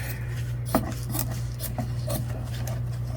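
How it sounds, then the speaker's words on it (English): Quiet, irregular snips and scraping sounds of scissors cutting quilt batting, a few soft crisp cuts spaced out over a steady low hum, close and faint with no talking. "Probably should be using my fabric scissors for this"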